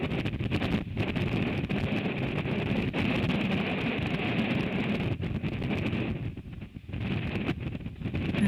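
Wind buffets a microphone on a chilly, snowy day in Ithaca, a constant low rumble and roar, with brief dips where gusts ease before picking up again.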